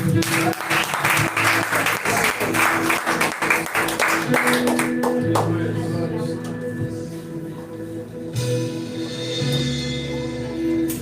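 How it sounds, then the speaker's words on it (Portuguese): A church congregation at a Saturday youth service claps loudly in a dense burst for roughly five seconds, then the clapping thins out beneath lingering music and background voices. "Aplauda Jesus."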